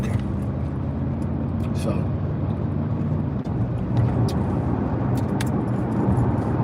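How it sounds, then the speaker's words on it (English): Steady road rumble of rush hour traffic inside a moving car, a continuous low engine and tyre drone running throughout with someone talking over it. "I'm in the rush hour traffic now"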